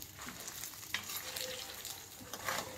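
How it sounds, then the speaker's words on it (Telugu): Garlic and cumin frying with dried chillies in a pan give a soft, steady sizzle with faint stirring scrapes, quiet and close, with no voices. "ఇందులో వెల్లుల్లిపాయలు అలాగే జీలకర్ర వేసుకొని 1 నిమిషం పాటు వేయించుకోవాలి"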